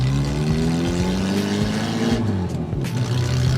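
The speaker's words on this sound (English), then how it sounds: "It does have a bit of an exhaust leak." A Reliant Robin's 850cc engine with an exhaust leak revs hard, its buzzy, rowdy note rising and falling close up while the car pulls away, loud and continuous with no speech.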